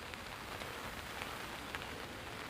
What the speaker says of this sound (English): Rain showers through the area